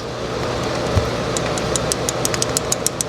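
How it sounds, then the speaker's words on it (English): A Honda CB160 engine runs with an adjusted valve lifter, heard close up as a steady mechanical idle with a light, regular ticking tap repeating over it. "This is the adjusted lifter."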